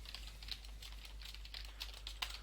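Quick, steady typing on a computer keyboard, a close run of light clicking keystrokes with no talk over them.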